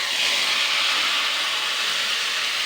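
Spice paste hits hot oil in a kadai over medium-low flame for a green pea curry, giving a loud, steady broadband hiss that holds evenly throughout with no talk.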